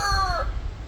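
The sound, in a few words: chicken clucking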